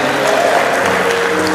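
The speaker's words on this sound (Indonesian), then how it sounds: "Berikan sorak-sorai buat Tuhan Yesus." A church congregation applauding during a sermon, dense and loud continuous clapping from many hands filling the room without pause.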